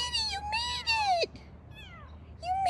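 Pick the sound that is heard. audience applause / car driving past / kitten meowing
kitten meowing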